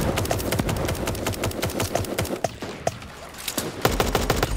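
Rapid bursts of Tommy gun fire in the video game Super Animal Royale, with dense repeated shots crackling continuously at close range through the clip.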